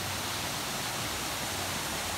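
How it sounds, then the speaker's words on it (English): A waterfall at a campsite pours in a continuous, loud, even rush of falling water with no pauses or voices. "Very nice waterfall."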